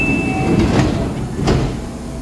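A train at Nara station in Japan, with a steady low rumble of rail noise and a couple of brief door-like whooshes and clunks, fairly close and continuous throughout.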